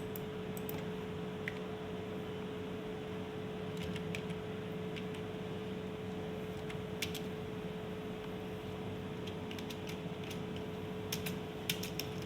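Light, scattered keystrokes on a computer keyboard, typing rows of text in short clusters over a steady electrical hum, fairly faint and with no talking.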